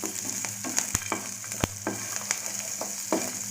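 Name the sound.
sautéing chopped green chili and onion in pan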